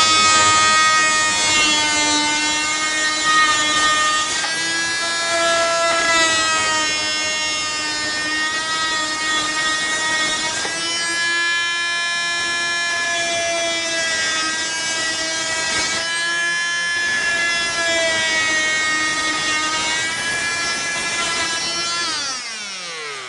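A power saw plunge-cuts into a plywood wall, giving a steady, loud motor whine with shifting pitch as the blade works through the board. It runs continuously for about twenty seconds before winding down, with no talking.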